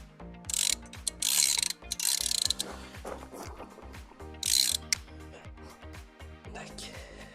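A ratchet tightens a screw on a car's front axle, giving quick rhythmic clicking strokes close by, with a few louder bursts of metallic rattle between them.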